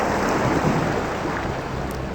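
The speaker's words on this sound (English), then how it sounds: "So that was clearly the sound of water draining" Water draining in the puzzle game Submachine HD: a steady, loud rushing and gurgling wash that runs without a break, with no voices over it.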